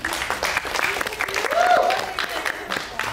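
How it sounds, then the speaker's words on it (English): A lecture audience gives a short round of applause for a classmate, scattered clapping of moderate loudness that swells briefly in the middle, heard alongside a speaking voice. "round of applause for Kristen there"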